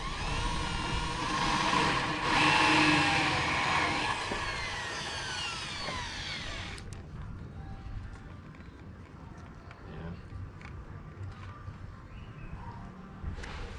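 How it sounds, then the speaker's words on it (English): A hole saw on a drill grinds steadily into wet wood of an Angler 252 fishing boat with a rough, whining cut for several seconds, then stops abruptly, followed by quieter scraping and handling noises. "Gonna just drill core, something that I can patch up later easily."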